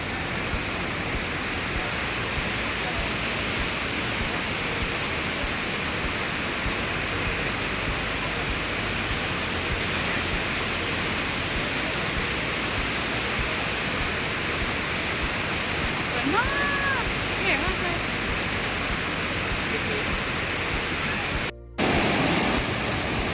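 Tat Khamut waterfall on the Bolaven Plateau gives a constant, dense roar of falling water that fills the whole scene at steady loudness. Faint whistle-like sounds rise briefly through the rush, and there is a short gap near the end.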